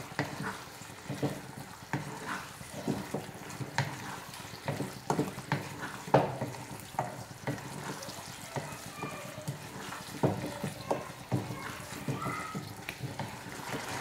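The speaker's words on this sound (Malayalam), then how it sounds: "ഇനി നമുക്കിത് നല്ലപോലെ തന്നെ ഒന്ന് ഇളക്കി കൊടുക്കാം." A spoon repeatedly stirs tofu and green pea masala in a pan, producing a run of soft scraping and wet clatter over a low sizzle, with a voice faintly heard now and then.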